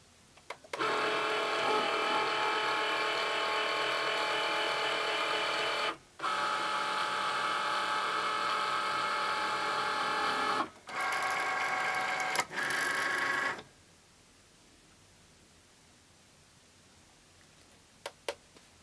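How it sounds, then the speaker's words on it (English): A Cricut Maker machine draws lines and cuts fabric with its fabric blade, giving a steady mechanical whir and buzz broken by a few short pauses, then falling quiet near the end. "It's going to go ahead and draw all my lines and cut all my fabrics."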